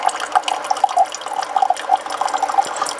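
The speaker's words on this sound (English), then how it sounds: "we add a little bit of the hot water" Hot water trickles and splashes into a small teapot in a pottery studio, a close, steady pour with light bubbling and drips, no voices.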